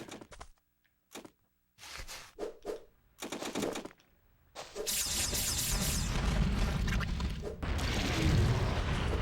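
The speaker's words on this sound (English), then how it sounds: "That way I get an explosion in right there." Ty 3 on GameCube: after scattered short game clicks and thuds, an explosion bursts out and knocks back lava enemies, becoming a dense, loud, roaring blast that keeps going and briefly drops before surging again.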